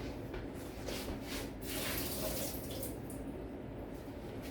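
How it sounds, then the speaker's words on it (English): Tap water runs steadily as Thai basil leaves are rinsed under the faucet, a continuous moderate splashing with no talk. "I'm rinsing it just to get any kind of small particles out from dirt"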